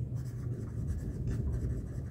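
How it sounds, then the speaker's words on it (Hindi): Steady, soft scratching of handwriting during a maths lesson, a continuous close scraping with small rhythmic strokes and no speech over it. "तो मैं यहाँ पे लिख देती हूँ"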